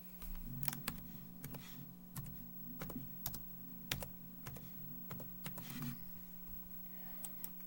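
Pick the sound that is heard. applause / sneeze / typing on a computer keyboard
typing on a computer keyboard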